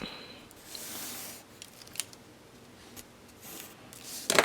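Scissors cut out a paper mat for a mini album belly band, making faint soft snips and rustles that end in a sharper crisp cut.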